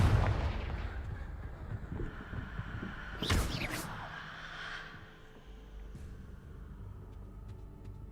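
A Confringo fire spell blast in the Hogwarts Legacy video game: a sharp, loud burst that rings out briefly, set against a steady rumbling game background.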